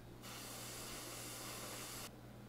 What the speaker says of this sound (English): And you just spray that shit again.